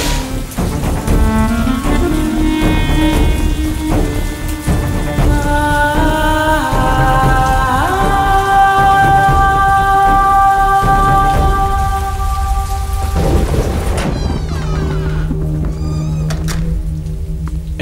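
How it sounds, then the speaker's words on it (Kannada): Heavy rain pours steadily and loudly throughout, with rumbles of thunder underneath and tonal music playing over the downpour. "ಹಂಗೆ ಅವತ್ತು ದಿಢೀರಂತ ಮಳೆ ಬಂತು."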